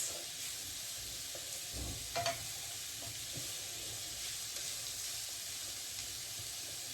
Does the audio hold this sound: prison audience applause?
no